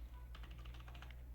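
Quick bursts of keystrokes on a computer keyboard while writing C++ code, close and fairly soft clicks in a rapid irregular run over a low hum.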